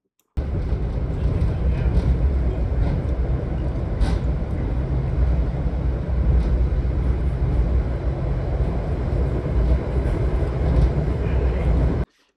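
Steady, loud rumble of a WeGo Star commuter train riding inbound to Nashville, heard from inside, continuous low rolling and rail noise throughout with no talking.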